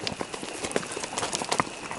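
Horses' hooves clip-clop steadily through a ride in the open, close by, with faint background hiss and no talk over the hoofbeats.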